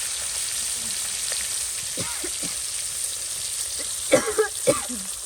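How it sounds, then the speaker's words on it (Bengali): Fish slide into very hot oil and fry with a continuous close hiss, broken near the end by a few louder spattering crackles. "তেলটা কিন্তু অনেক গরম হয়ে গেছে তো এখন মাছগুলো দিয়ে দিই"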